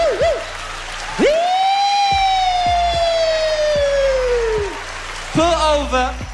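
Comedian on stage with a voice imitating a police car siren, a long rising and wavering wail sustained for several seconds, loud and close over a steady rhythmic thumping beat.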